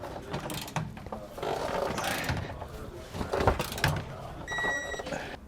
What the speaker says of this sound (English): We're going to switch over to a torque wrench and then torque them to the specifications outlined in our instructions